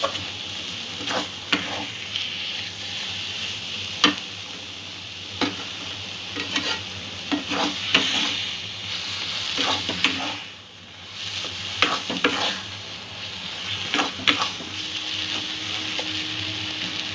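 Chana dal mixture for barfi stirred in a pan, a spoon scraping in irregular strokes over a continuous soft sizzle, close and fairly quiet, with no talking.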